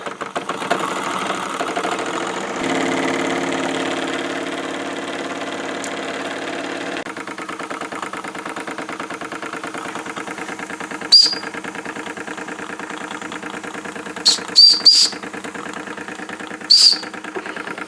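A Wilesco D-18 mini steam engine power plant runs on live steam, a steady close, fast mechanical chuffing and clatter that continues evenly, broken late by a few short sharp high squeaks or whistles.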